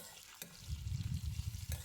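Onions sizzle and crackle steadily in hot oil, a close, continuous frying hiss with faint clinks of a spoon stirring, no voices.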